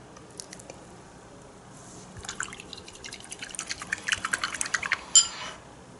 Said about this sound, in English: you go to clean water and remove all the soap from the brush